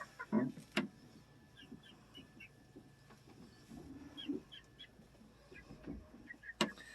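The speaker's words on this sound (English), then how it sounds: "I really wanted Polish chickens" Polish chickens on a farm make scattered soft clucks and short calls, fairly close but quiet, with brief sharp knocks and rustling in between.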